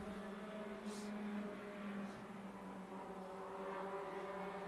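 Race cars circle Tucson Speedway at a NASCAR Weekly Series event, their engines blending into a steady, fairly faint drone with a slight swell near the start that holds through the whole stretch.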